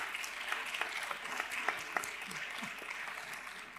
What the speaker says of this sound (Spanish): Ha arrancado, aplauso